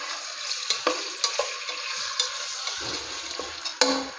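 Fish pieces fry in a pan with a steady, close sizzle, broken by repeated sharp scrapes and clinks as a utensil stirs them, with no talk.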